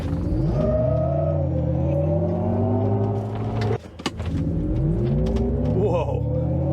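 2022 Hummer EV launching hard in Watts to Freedom mode, a loud rising electric whine and rumble that climbs in pitch, briefly dips, then surges again, with people talking over it.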